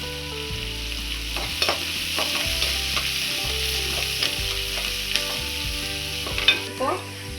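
Chopped onion, curry leaves and green chillies sizzle in hot oil with cumin in a pan while being stirred for a beans and carrot poriyal, a constant frying hiss broken by scraping stir strokes, with faint background music.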